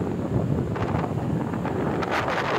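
Steady, loud wind buffets the microphone in a continuous roar on the summit of Mt. Kalisungan in Caluan, Laguna, with gusts swelling and fading throughout and no voices.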